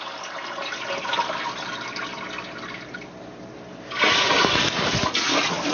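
Water pouring into the bottom sump of a reef aquarium setup, a steady hiss that swells into a louder, splashier gush partway through, close and alone without talk.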